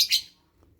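Newly hatched Euwing lovebird chicks give one short, high chirp right at the start, then fall quiet.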